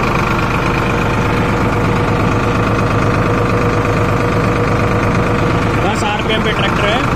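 Farmtrac 60 tractor engine idling at steady RPM, a continuous loud diesel rumble with a regular low throb running throughout and a slight change near the end.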